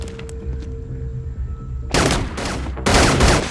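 Heavy gunfire in the Sylvester Stallone heist thriller action film Armor: after a quiet, low-humming lead-in, loud dense volleys of shots burst in, pause briefly and then return even harder.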